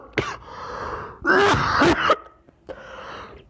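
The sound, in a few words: coughing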